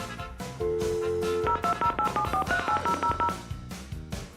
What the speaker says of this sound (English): So let's get dialing.